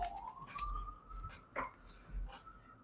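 A faint siren wails outside an apartment window in New York, a single rising tone sustained low in the mix with light clicks and background noise.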